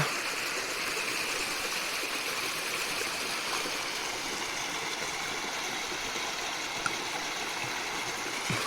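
A waterfall and stream at Ajodhya Hill in Purulia give a steady, loud rushing roar of water that stays constant throughout with no pauses, and no voices are heard.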